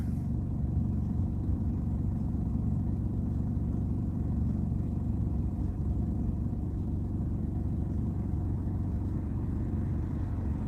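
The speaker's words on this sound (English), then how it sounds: "Boy, we got the traffic tonight, don't we?" Road traffic at night makes a constant low rumble of passing cars, a steady droning engine and tyre noise that stays even and unbroken throughout, with no voices over it.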